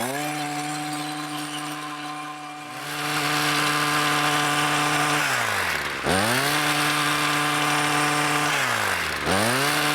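A power hedge trimmer starts up and cuts a thuja hedge, giving a loud, close, buzzing engine drone that revs up and dips as the blades bite, in repeated surges every few seconds.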